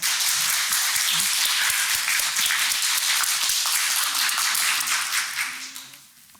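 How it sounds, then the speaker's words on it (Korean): Audience applause at a Korea–Japan seminar on suicide prevention, honouring a Japanese monk who leads a life-respect movement: dense, steady clapping fills the room for several seconds, then thins and fades out at the end. "다시 한번 박수 부탁할까요?"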